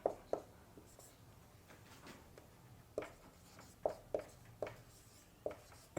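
Chalk taps and scratches on a classroom board as a teacher writes a chemical name, giving soft irregular clicks and strokes spread over several seconds at low volume, with faint room noise and little talk.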